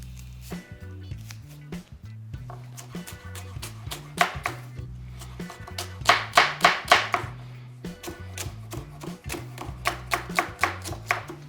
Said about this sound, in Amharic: የሽንኩርትና የቃሪያ አይነት ተከታትፎ ተዘጋጅቷል